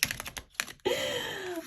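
A few stiff, paper-feeling tarot cards tap and flick close by, followed by a steady riffling rush as the deck is shuffled.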